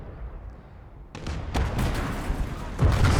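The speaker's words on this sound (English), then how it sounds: "we get a nice shot with this Vet Panzer IV at this point" Cannon fire from a Panzer IV tank in the Gates of Hell: Ostfront video game, a sharp loud blast followed by several more booming shots and rumbling battle noise.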